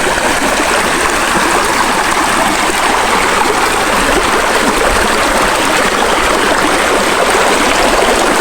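Steady rushing flow of a small creek, a continuous broadband wash of running water close by, with no voices.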